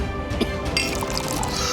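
Drinking water is poured into a vessel in a home, a short liquid trickle with a few small splashes near the start, heard close over a low background hum.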